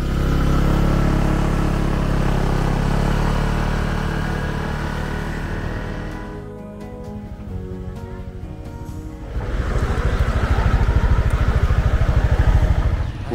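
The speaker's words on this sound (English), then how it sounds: "So now we will take back the motorbike and head to the east coast." A motorbike rides along a road on Koh Lanta island in Thailand, its engine droning steadily with wind rush. It eases off in the middle, then swells louder again.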